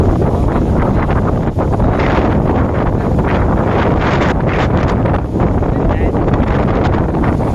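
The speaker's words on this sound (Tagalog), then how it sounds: "Lakas talaga yung hangin." Strong wind buffets the microphone with loud, continuous roaring rumble and gusting noise, no other sounds standing out.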